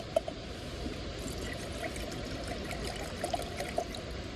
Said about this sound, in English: I filtered some water.